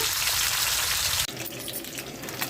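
Fish pieces fry in hot oil for fish biryani, a loud dense sizzle that cuts off abruptly and gives way to a quieter, uneven crackle with light clinks as the pieces are turned, and no voice.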